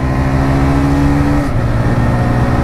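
A Bajaj Pulsar NS160 (2024) and a TVS Raider 125 in a drag race give a loud, close, continuous engine drone, its pitch dropping briefly at a gear change midway.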